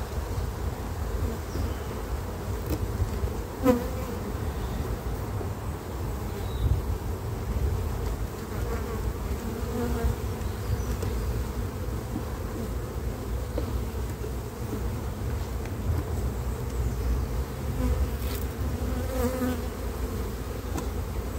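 A strong honey bee colony hums in an open hive, a dense, steady buzz close by, with individual bees flying past and occasional light clicks of handling.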